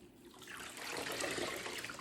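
Wool homespun yarn is lowered into a cold water bath, producing a growing splash and gurgle of water that swells and stays steady, close and fairly quiet.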